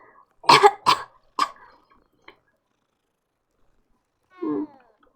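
A few sharp, cough-like bursts come in quick succession, then silence, followed by a single short, close meow from a cat in Hogwarts Legacy.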